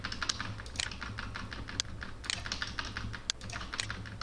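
Rapid, irregular clicks of fingers typing on a computer keyboard, individual keystrokes distinct and close, with a few sharper taps standing out over a low background hum.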